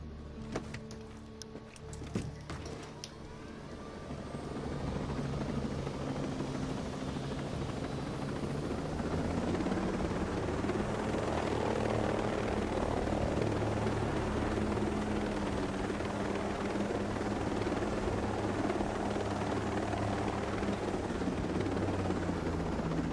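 A helicopter in Ghost Recon Breakpoint spools up and flies, its rotor and engine building into a steady, loud, droning whir that holds throughout with no speech.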